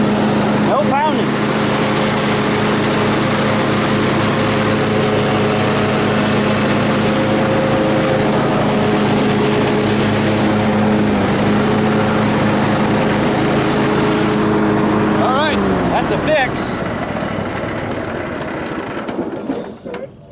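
A restored Troy-Bilt Super Bronco lawn mower engine running steadily close by with a loud, even drone and no pounding, then winding down near the end.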